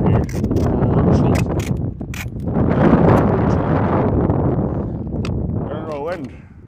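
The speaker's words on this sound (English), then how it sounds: "The wind's not making things easy either." Strong outdoor wind roars and buffets the microphone in long, loud gusts, with a person talking over it for much of the time.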